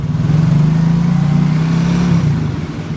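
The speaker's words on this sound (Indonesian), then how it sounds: "Coba ditarik gas." A Yamaha Soul GT scooter engine, its CVT just repaired, revs steadily at close range, a loud continuous low drone that swells and holds for about two seconds before easing off.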